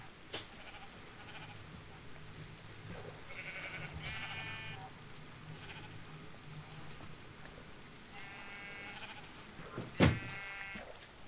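Sheep in the video game Minecraft bleat in several short wavering calls spread across the stretch, over steady game ambience, with one sharp loud hit near the end and no talk.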